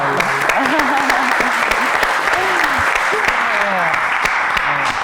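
Studio audience applause on a talk show, steady clapping filling the whole stretch, with a talking voice and some whoops rising over it.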